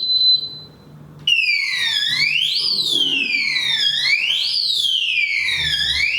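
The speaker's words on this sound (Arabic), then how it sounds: "سرينة تصدر صوت عالي جدا عند محاولة السرقة" The anti-theft siren of a large, quarter-ton steel safe wails loudly and close, sweeping up and down in repeated cycles after a brief steady beep, running on without pause and with no voices.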